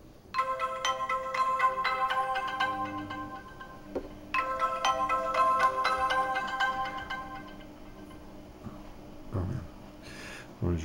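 An InFocus M810t smartphone plays its ringtone, a bright electronic melody in two repeated phrases, fairly loud and close, ending with brief handling noise.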